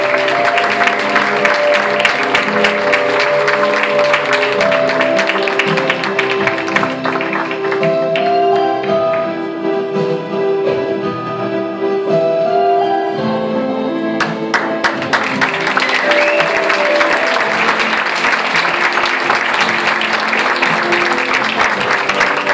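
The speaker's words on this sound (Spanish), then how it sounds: "Un fuerte aplauso para ella." Sustained audience applause at a senior citizens tribute event in Barrial de Gáldar, dense clapping that dips briefly in the middle as music carries on beneath it, then swells again.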